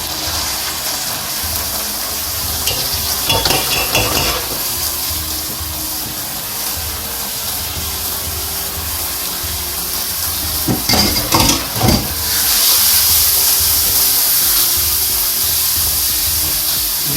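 Steady loud sizzling fills the whole stretch as dal mash fries with whole spices in a pan, with a few short bursts of stirring and scraping against the pan.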